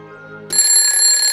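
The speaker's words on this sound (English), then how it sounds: "Here comes the alarm clock." An alarm clock bursts into a loud, steady electronic ring partway through, cutting in sharply after a quiet musical opening and sounding alone without any voices.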